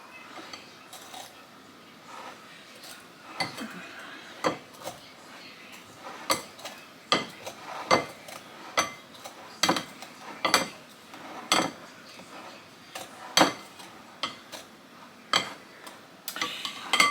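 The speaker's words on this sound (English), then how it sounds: "this pastry cutter, excuse me, is another tool that I like to use in the kitchen" Repeated sharp metallic clinks and scrapes of a pastry cutter working butter into a blackberry cobbler mixture in a bowl, irregular and close, continuing steadily with no talk.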